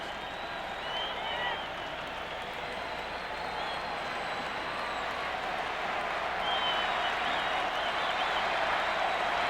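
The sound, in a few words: Minnesota baseball crowd cheering at World Series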